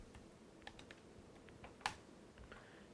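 A password is typed on a computer keyboard as a short run of faint, close key taps, with one sharper click near the middle, against quiet room noise.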